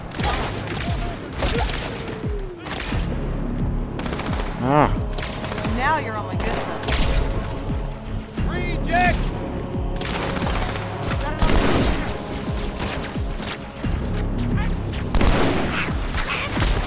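Gunfire in the Halo 2 video game, repeated bursts and single shots with booming impacts and energy-weapon whines, loud and dense across the whole stretch.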